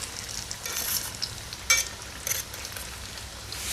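Fasting-special nuggets frying in oil over a slow flame until golden, giving a continuous gentle sizzle with a couple of brief louder crackles.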